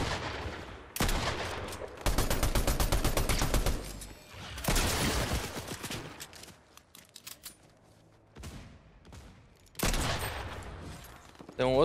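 Video game gunfire comes in several loud, rapid automatic bursts separated by short pauses. Players can be heard talking underneath.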